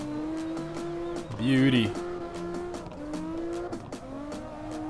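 Video game car on a drift-tuned setup, an Asura M1, its engine droning steadily with a brief squeal of tires midway on a test drive; a voice speaks a single word over it.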